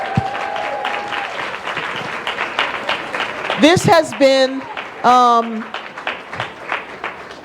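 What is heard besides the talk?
audience applause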